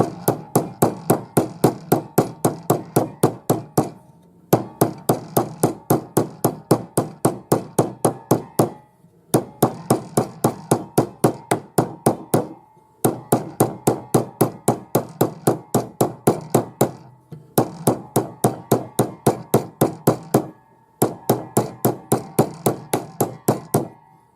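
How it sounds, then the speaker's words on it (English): Rapid, steady hammer blows on metal while shaping a hollow bangle, sharp ringing strikes in quick bursts separated by brief pauses, close and loud throughout. "So you can see when I stop moving the metal, I stop hammering."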